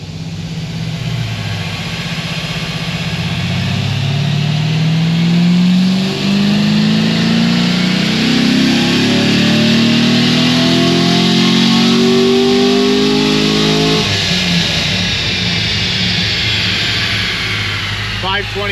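An LS7 V8 engine on a dyno pulls in one long, loud wide-open run, its pitch climbing steadily before it drops back off near the end.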